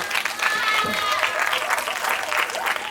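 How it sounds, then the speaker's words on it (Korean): A lecture audience at a 2020 entrepreneurship talk applauds as a rice-cake shop owner and company head is introduced, giving steady, dense clapping for the full three seconds with faint tonal sounds drifting through it. "박수로 부탁드립니다."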